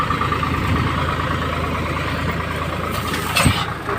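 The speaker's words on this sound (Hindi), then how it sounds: "ये देख ट्रैक्टर" A tractor engine runs in a farm field during ploughing, a loud, close, steady low rumble that holds an even idle-like tone, with a brief louder surge near the end.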